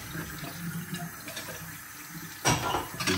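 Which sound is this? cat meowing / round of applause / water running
water running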